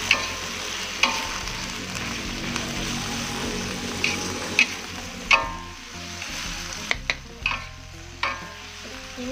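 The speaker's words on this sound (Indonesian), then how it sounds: "Kita aduk kembali." Bottle gourd sautéing with spices in a pan, a steady sizzle broken by sharp scrapes and clinks of a spatula stirring at irregular intervals, close and fairly loud.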